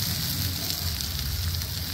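Grated potatoes go into spices already frying in a pan for spicy potato chops, giving a steady, close, loud sizzle and crackle throughout with no talking.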